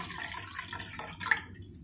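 Around three cups of water pour into a cooking pot for boiling pasta, a short splashing, trickling stream heard close by with a brief louder gush near the end, then quiet.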